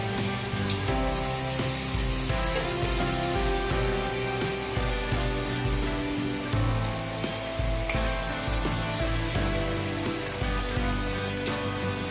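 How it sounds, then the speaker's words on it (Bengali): Continuous loud bubbling sizzle of cabbage pakoras deep frying in hot oil, steady throughout with no talking. "একটু হাতে সময় নিয়ে এগুলোকে মুচমুচে করে ভেজে নিতে হবে।"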